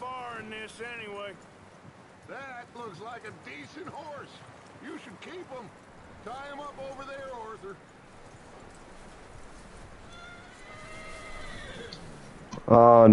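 Horse sounds from the Red Dead Redemption 2 game: a whinny and hoof clip-clop mixed with game sound and frequent voices talking over them, fairly quiet throughout until a sudden loud burst at the very end.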